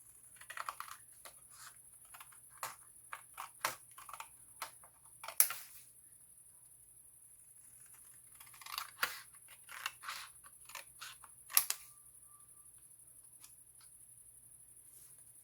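Scissors snip paper for a scrapbooking mini album that sits in an envelope. Quiet, close crisp snips come in short irregular bursts separated by pauses, with a faint high electrical whine underneath.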